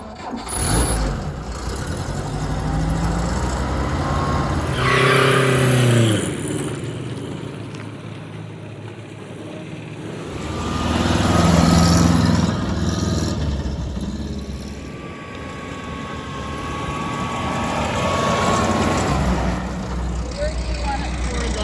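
An M422 Mighty Mite military vehicle engine runs and drives, a rough rumble that swells and fades in several passes over about twenty seconds, with people cheering and talking over it.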